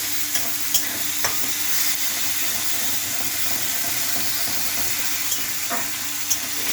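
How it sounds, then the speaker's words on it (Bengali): Continuous oil sizzle and crackle of fish frying close by, with a few sharp pops and spatters scattered throughout. "এই মাছ এখন ভাজা হবে"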